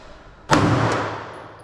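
A single 9mm Browning pistol shot fires at close range, a sharp loud crack with a short decaying tail, after a moment of quiet room tone.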